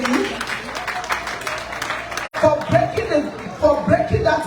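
A conference audience at a women's gender-equality event applauds. Claps build into steady rolling waves with some crowd chatter and chuckles mixed in, and a short gap breaks the applause partway through.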